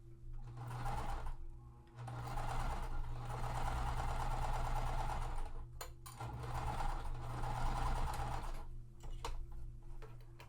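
A sewing machine stitches quilt seams under a presser foot in a steady, close whirring run, pausing briefly near the start and again near six seconds before carrying on.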